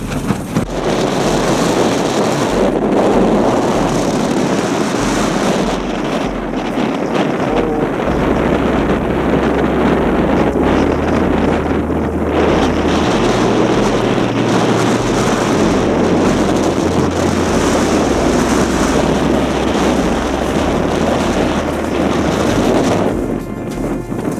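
Strong wind buffets a tent at a camp in Antarctica on a South Pole expedition, roaring continuously and loudly against the microphone with steady low rumbling gusts throughout.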